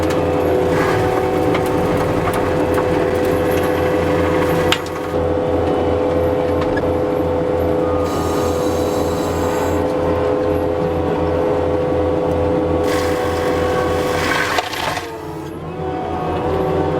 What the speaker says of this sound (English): if the tree stump is small enough, you can just eat it up with that forestry mulcher